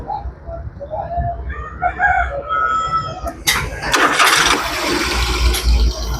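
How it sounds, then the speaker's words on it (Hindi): A Daihatsu Cuore engine cranks and catches partway through, a sudden burst of starter and engine noise, preceded by a rooster crowing nearby. "गाड़ी ये स्टार्ट हो गई है"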